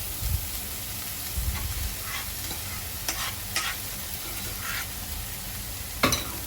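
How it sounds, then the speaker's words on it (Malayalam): Ghee rice being stirred into a masala in a pan for vegetable pulao, a low continuous sizzle with intermittent scraping strokes of a spoon and a sharp knock near the end. "ഇളക്കി യോജിപ്പിക്കുക മസാലയായിട്ട്"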